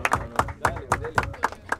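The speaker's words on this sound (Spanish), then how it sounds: "¡Aplausos para este!" Rhythmic group clapping from the audience at a Spanish-language freestyle rap battle final. The claps fall in an even, quick beat of about seven strong hits with a low murmur beneath.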